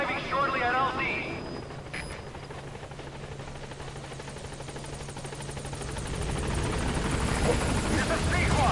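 The Pequod helicopter in Metal Gear Solid 5 coming in to a landing zone, a loud, steady rotor thump and engine roar that swells as it draws nearer, with a radio voice speaking over it.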